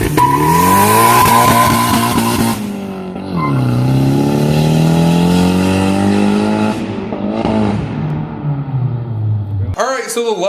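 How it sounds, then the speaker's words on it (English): A Hyundai Genesis Coupe 2.0 liter turbo revs hard, then launches with a loud climbing engine note through several gear changes, close and powerful. "here is a launch from a Hyundai Genesis Coupe"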